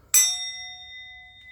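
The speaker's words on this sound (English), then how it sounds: "I'm going to ring the bell." A single bright bell strike rings out clearly, its clear metallic tone lingering and slowly fading in near silence.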